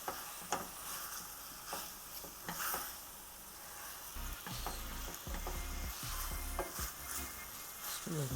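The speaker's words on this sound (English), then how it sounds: "Increase the heat a little bit, and I will mix these onions in" Onions and peppers being stirred into a hot pan for a Sri Lankan pepper beef curry, a steady sizzle with occasional utensil scrapes and clicks, close and continuous without speech.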